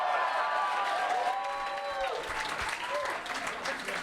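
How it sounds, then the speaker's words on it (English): Comedy club audience applauding steadily at full strength, a dense wash of clapping with some cheering that holds throughout. "give these ladies a round of applause"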